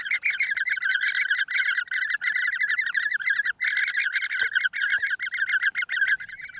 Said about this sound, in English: One chick is always on chirp guard, calling out at the entrance to the nest